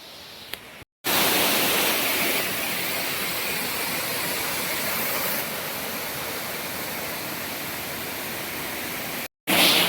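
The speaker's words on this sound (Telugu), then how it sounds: "ఇక్కడ మినీ వాటర్ ఫాల్ టైప్ మాట అది మాత్రం మనకి" A small waterfall at Kothapalli, a developed tourist spot with a bathing area, gives a steady, loud broadband rush of falling water that runs without a break across the clip, and no voices are heard over it.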